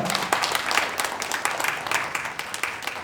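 An audience at a village self-governance results-sharing event claps to welcome a speaker, a short burst of steady, fairly dense applause that tapers slightly toward the end.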